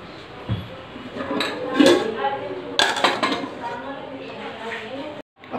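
A cooking pot being covered with its lid while making Hyderabadi chicken dum biryani with spices, heard as a few close metallic clanks and clinks of cookware under quiet kitchen noise.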